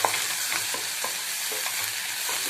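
Onion and tomato frying in a pan while being stirred, a steady dense sizzle with soft repeated spoon strokes underneath, close and continuous.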